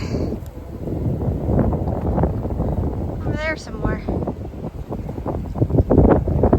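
Strong wind buffets a phone microphone on an outdoor hike, a steady low roar with gusts that swell toward the end, while a person speaks briefly close to the mic.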